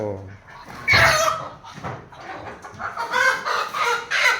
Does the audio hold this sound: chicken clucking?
yes